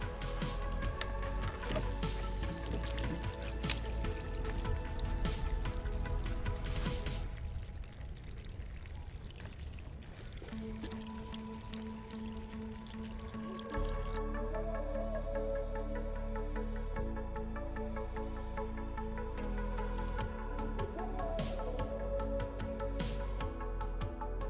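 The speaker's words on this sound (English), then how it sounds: "All right, time to put some water in." Water pours steadily into a Scrubba wash bag, an off-grid washing bag used for camping laundry, filling a big load; a continuous close splashing and gurgling flow that shifts in pitch partway through as the level rises.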